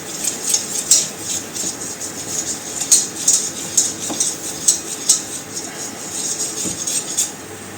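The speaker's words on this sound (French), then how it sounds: "je remue" Whisk or spoon scraping and clinking against a pan as flour is stirred in for a mac and cheese roux, a steady series of light metallic taps and scrapes, close and fairly loud, with no talking.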